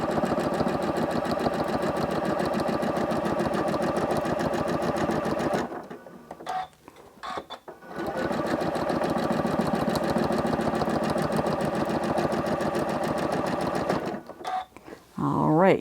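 A sewing machine stitches in free motion quilting, its rapid, steady needle chatter running loud and close, pausing briefly midway for a couple of seconds before resuming, then stopping again near the end.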